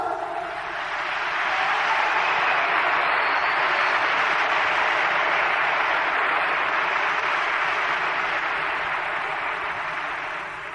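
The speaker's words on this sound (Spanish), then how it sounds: "Bueno, pues entonces démonos un aplauso todos." Seminar attendees at a network-marketing talk applaud together, a steady, dense roar of clapping that rises, holds for several seconds and fades slightly, sounding somewhat distant and blurred in the room.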